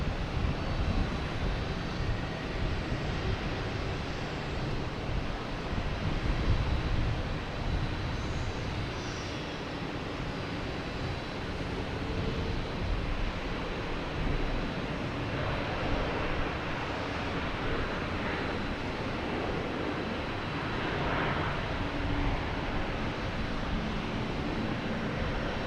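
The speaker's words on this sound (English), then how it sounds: "here's the American coming in from Chicago" American Airlines Boeing 737 MAX 8 landing at Boston Logan on arrival from Chicago, its jet engines producing a loud, continuous wide-band roar and deep rumble that stays near and steady the whole time, no talking.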